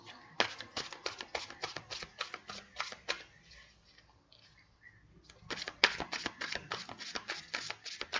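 Playing cards shuffled by hand in repeated quick riffling bursts, crisp and close, with a brief pause midway before the shuffling resumes; no speech.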